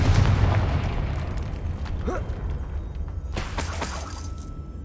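Hogwarts Legacy's Confringo fire spell goes off in a booming blast with a shattering crack, rumbling and fading, followed by a few fainter pops and crackles a little later.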